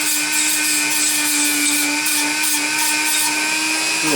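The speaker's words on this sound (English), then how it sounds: "I'm taking a Dremel and doing it, so I'll just show you me using the Dremel." A Dremel rotary tool drills lightly into a hanging solar light, giving a loud, steady high-pitched whine that holds constant from start to finish without a break.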